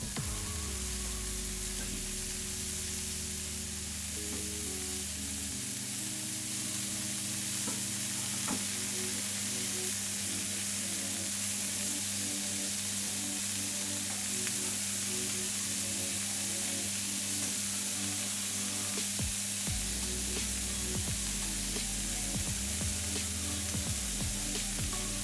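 Beef tenderloin slices fry in a cast iron pan with butter, giving a steady, close sizzle that runs the whole time, broken by occasional clicks and scrapes as the meat is turned.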